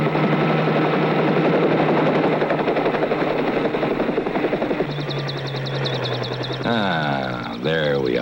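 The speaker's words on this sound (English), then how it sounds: "Ernie, how would you like to try just one more landing?" A helicopter comes in to land, its rotor and engine making a loud, steady roar that holds for several seconds and then shifts in pitch and texture near the end as it settles.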